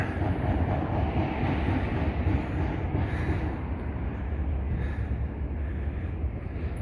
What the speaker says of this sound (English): still hear trains